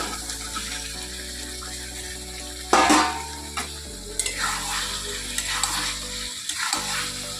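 Spiced vegetables fry and sizzle in oil with dried red chilli powder, Kashmiri chilli and turmeric as a spoon stirs and scrapes the pan, a steady close sizzle with a few louder stirring clatters.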